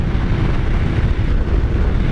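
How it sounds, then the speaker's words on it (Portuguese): Strong wind roars steadily across the microphone while riding a Kawasaki Z900 motorcycle on the road, a dense low rumble that stays loud and unbroken throughout. "Pensa num vento forte"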